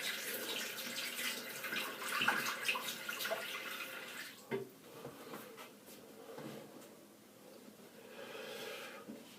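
Water running steadily from a tap close by during a straight razor shave, a continuous hissing splash with a few knocks and clunks of handling partway through, no talk over it.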